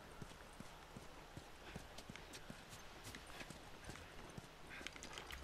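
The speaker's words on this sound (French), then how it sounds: "Qu'est-ce qu'il fait là, le cheval?" Horse hooves clip-clopping in a steady, faint walking rhythm with a quiet neigh-like rustle, set in the video game The Last of Us Remastered amid low ambient noise.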